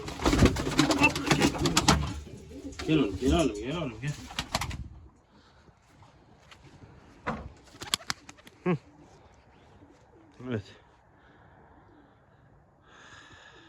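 Turkish tumbler pigeons kept as flying birds coo softly on the first snowy day, with a voice calling out at the start, then sparse low coos and wing sounds.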